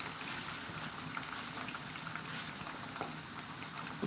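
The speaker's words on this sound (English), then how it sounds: "This is just shallow frying as yesterday, only shallow frying." Fish steak shallow frying in a pan for okra soup, a steady dense sizzle and crackle with fine spitting pops, close and fairly quiet, continuous without talk.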